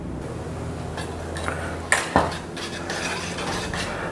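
Nutrijell pudding mixture stirred in a pot, a steady scraping swirl with a couple of sharp clinks of the spoon against the metal near the middle, close and alone.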